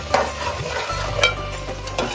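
Whole spices including nutmeg and star anise being stirred and roasted in a pot for shahi mutton korma: close scraping stir strokes and clinks over a low sizzle, with a dull bump partway through.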